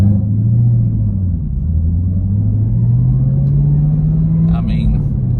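A car engine fitted with a Soler Performance ported throttle body gives a loud, steady low rumble that climbs slowly in pitch as it revs, close by and continuous.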